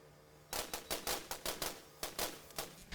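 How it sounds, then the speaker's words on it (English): Rapid gunfire in the video game Mechanica, a string of sharp, loud bursts in irregular rhythm with brief gaps between volleys, close and alone without any talk. "pretty soon you'll hear the symphony of gunfire"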